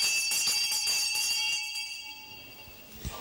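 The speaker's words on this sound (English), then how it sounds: "I've also got this town's cry bell" A town crier's handbell rings close and loud with rapid repeated clangs and bright sustained overtones, then lets its ring fade away.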